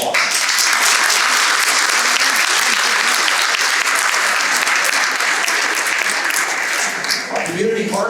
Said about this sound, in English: We give them all a round of applause.